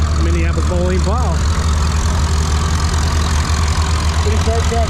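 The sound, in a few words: tractor engine idling at plow day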